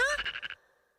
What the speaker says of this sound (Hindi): वो देखो उन मेंढकों को।